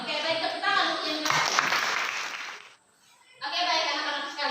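Students in a classroom give a short round of clapping that rises out of children's voices and then drops to a brief lull before the chatter resumes.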